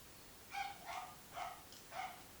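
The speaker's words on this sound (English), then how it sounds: "Oh, my dog's making an appearance. She's been very loud." A female dog barks outside, four short, evenly spaced barks that sound faint and distant.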